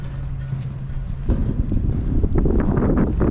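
Wind blowing outdoors, buffeting the microphone with a low, rumbling roar that builds and grows gustier partway through, steady and fairly loud with no talking.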